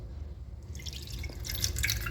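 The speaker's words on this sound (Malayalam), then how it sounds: "അപ്പോൾ പുളി വെള്ളം ഇട്ട് കൊടുക്കാം." Tamarind water is poured into a bowl, a brief, faint trickle and splash that grows a little louder toward the end, with no voices.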